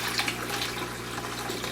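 Water poured from a fish shipping bag into an aquarium in a fish room, a steady close splashing gush running without pause.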